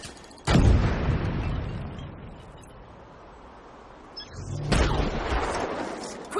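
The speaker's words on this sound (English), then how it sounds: "Take cover! Grenade!" Two heavy grenade explosions in The Division 2 video game, each a sudden loud close blast with a rumbling decay, several seconds apart.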